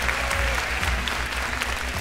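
A crowd at a rap battle bursts into dense, steady applause for the losing MC, loud and close with a low rumble throughout, no voices above it.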